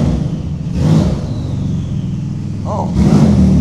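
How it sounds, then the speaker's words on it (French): A car with turbos revs nearby in a couple of rising surges, with a whirring whine and a low engine rumble that swells again toward the end. "Oh, le bruit des turbos, frère."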